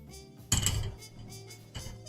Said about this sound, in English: This is the sound of my usual runner, my metal one, my metal nippers on the runner.